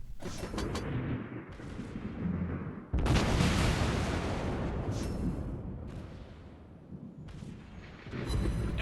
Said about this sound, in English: Being that these guns are 508mm, the citadels are quite chunky and very satisfying.